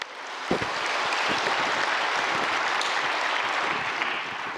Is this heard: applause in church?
yes